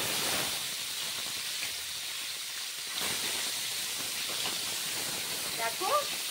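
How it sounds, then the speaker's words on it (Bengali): Shing catfish fry in hot oil for a curry with potatoes, giving a loud, steady hiss of sizzling oil with a few sharper spits. A faint voice can be heard near the end. "তো চলো আমি মাছগুলোকে ভালো করে ভেজে নিই।"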